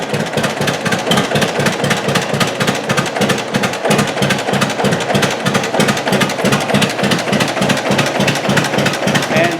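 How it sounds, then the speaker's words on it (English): A 1943 John Deere Model B tractor's two-cylinder engine idling, a loud close steady chugging pulse of evenly spaced low thumps with a mechanical clatter, with no talking over it. "you can idle it right down."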